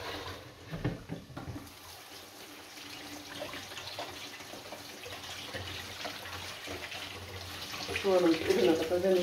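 Tap water runs steadily into a kitchen sink while cooking ingredients are rinsed, a continuous wash of splashing with a louder burst of water near the end, with clattering in the background.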